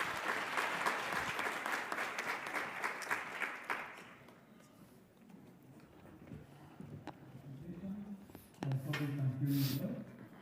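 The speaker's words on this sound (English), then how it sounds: "Please give him a round of applause." A round of applause from the audience at a future-of-work dialogue event, dense and steady for about four seconds before dying away into quieter room noise, with a voice starting to talk near the end.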